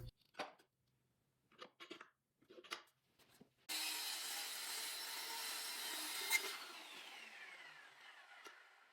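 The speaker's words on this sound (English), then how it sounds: "Now we need to cut down this trim piece to the proper size." A saw cuts a wooden trim piece, a continuous rasping stroke that runs for about five seconds after a few scattered light knocks and handling sounds.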